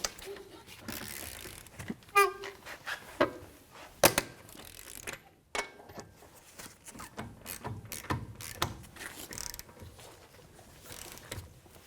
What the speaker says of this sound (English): now we're going to torque our lug nuts down to 94 foot-pounds